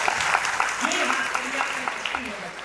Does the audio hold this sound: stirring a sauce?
no